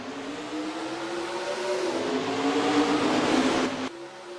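Race cars at Watkins Glen in NASCAR Racing 2003 accelerate out of a turn, a loud rising engine whine building steadily before cutting off abruptly, with no voices.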